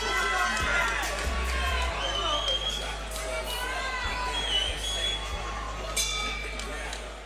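A boxing crowd at a fight cheers and shouts as the second round begins, a lively roar of voices with whoops, scattered thuds and a few clinks, steady throughout.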